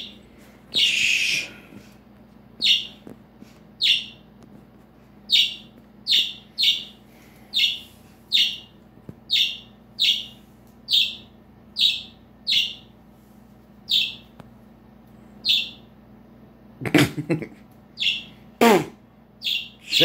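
Pet bird giving repeated sharp chirps at a fairly regular rhythm, close and clear, with a couple of louder harsh squawks near the end over a faint background hum.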